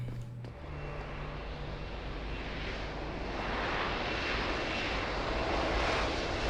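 An aircraft, a VTOL craft in Deus Ex: Human Revolution, comes in to land close by on a helipad, with a steady loud engine roar and rushing wind that swell slightly as it settles, and no talk.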